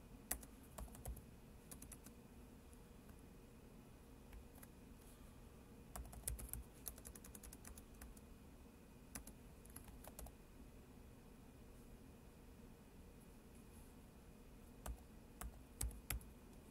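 Keys clatter on a computer keyboard in irregular bursts of typing, fairly close and quiet, with short pauses between flurries over a low steady room hum.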